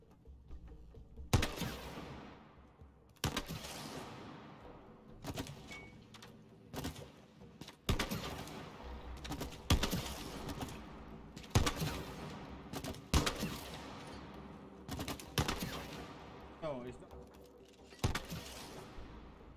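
Video game gunfire in It Takes Two: a string of sharp, separate shots with ringing decays, spaced irregularly over about twenty seconds, fairly close and punchy against a quiet background.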